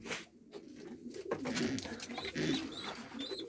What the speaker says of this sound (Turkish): Kuşların birinden ses geliyor